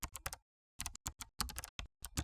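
Someone types an email address on a computer keyboard in fast bursts of crisp key clicks, with short pauses between runs of keystrokes, close and clear.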